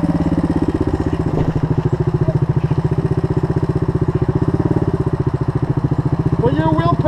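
Suzuki DR650 motorcycle engine stuck in mud off road, a steady loud close thumping single-cylinder drone held throughout without a sharp rev, with voices talking near the end.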